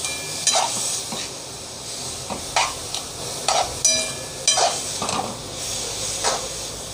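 Moong dal khichdi with salt fries in a pan under a soft sizzling hiss, broken by repeated scraping stirs of a spoon against the pan at an uneven rhythm, close by and without speech.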